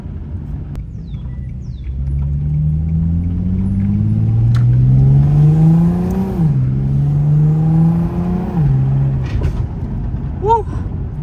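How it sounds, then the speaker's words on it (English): Infiniti G35 coupe launching on a street, its engine rumbling at idle, then revving up hard through a rising pitch, dropping briefly and climbing again before easing off, loud and close. "Do a little launch in front of his house"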